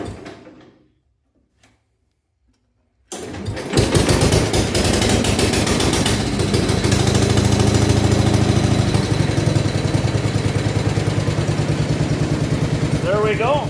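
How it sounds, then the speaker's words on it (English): A Simplicity 3212H garden tractor engine fires up after a few seconds of near silence, then settles into a loud, steady chugging idle close by. "That started pretty good."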